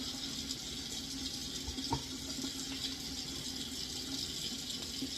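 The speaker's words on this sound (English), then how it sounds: "So now that my water is warm, I will start by adding soap." Warm water runs steadily from a tap into a sink while hands are washed with soap, a soft continuous splashing hiss with a few faint knocks, fairly quiet and without talk.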